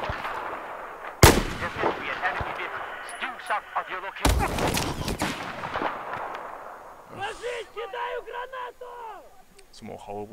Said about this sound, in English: Some more horrible shooting by me.